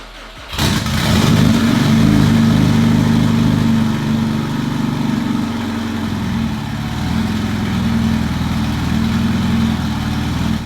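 A twin-turbo Subaru engine cranks and catches, roaring up loudly at first, then settling into a steady, rumbling idle close by for the rest of the clip.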